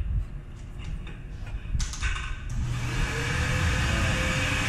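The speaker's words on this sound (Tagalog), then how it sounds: "Blower time." Pet grooming blower drying a shaved Shih Tzu, a steady loud rushing whoosh that swells and holds after a few clicks and shuffles, close by.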